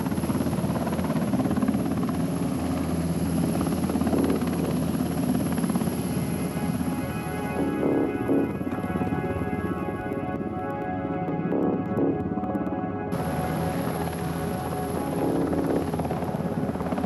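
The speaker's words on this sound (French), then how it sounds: "on va retrouver l'hélicoptère qui va dropper les commandos" A military helicopter holds a steady, close rotor and turbine roar while approaching to drop commandos at a Bastille Day display, with a high whine above the thump.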